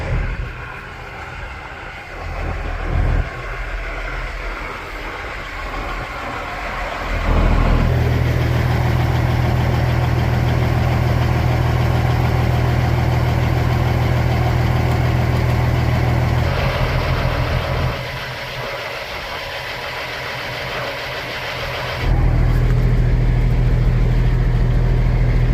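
A truck engine rumbles at a steady idle on a cold early-winter day, growing noticeably louder twice as it is fired up or revved, with a deep, constant low drone throughout and no talking.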